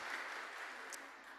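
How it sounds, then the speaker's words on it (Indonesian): Audience applause for the singers at an online youth webinar, a steady wash of clapping that is fairly quiet and slightly distant, continuing evenly throughout. "Tepuk tangan dulu untuk singer kita."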